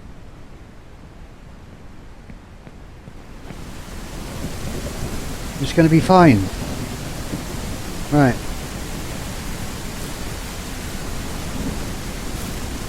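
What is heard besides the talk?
rain and thunder in the video game Ranch Simulator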